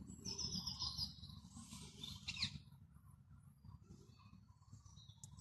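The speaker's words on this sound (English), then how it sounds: "I heard a parakeet out the front." A parakeet calls from outside a pop-up blind near its nest, with a few quick, shrill chirps early on and a brighter squawk burst, faint and distant over a low steady rumble.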